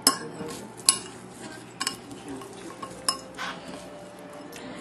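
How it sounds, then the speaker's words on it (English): A utensil stirring a snack mixture with lemon juice in a bowl, giving scattered clinks and scrapes against the dish in an irregular rhythm, close and fairly quiet, with no voices. "See, I'm stirring it up"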